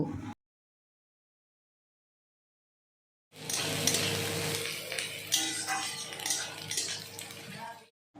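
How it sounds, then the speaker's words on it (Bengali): Onions go into hot oil tempered with black cumin for a dried fish curry. After a silent gap comes a close burst of clattering utensils and a steady frying sizzle that lasts several seconds, then stops. "তো এবার পেঁয়াজগুলো দিয়ে দিলাম পেঁয়াজগুলো আমি লাল লাল করে ভেজে নেব"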